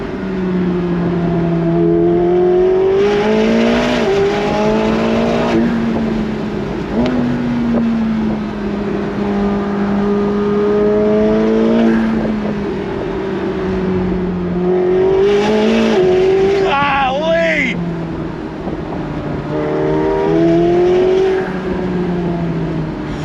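A 2024 McLaren 750S Spider supercar engine revs hard and climbs through gears, loud and close with the top down, with sharp pops and crackles between shifts and wind rushing throughout.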